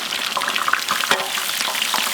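Mustard seeds, urad dal and dried red chilies fry in hot oil for a village-style chicken pallipalayam, a close, crackling sizzle with scattered pops and stirring scrapes, no talking.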